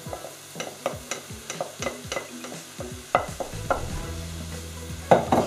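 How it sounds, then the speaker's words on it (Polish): Cooked buckwheat groats stirred into a frying pan of mushrooms and leek, with a steady rhythm of scraping spoon strokes and soft knocks over a continuous sizzle, close up. "Dorzucam kaszę gryczaną."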